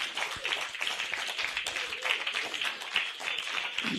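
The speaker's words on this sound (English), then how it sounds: "Can we give him a round of applause more?" Audience applause for the registrar at a pharmacists' scientific conference opening ceremony in Nigeria, steady moderate clapping from a sizable crowd that continues evenly throughout.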